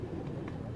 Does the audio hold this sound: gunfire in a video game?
no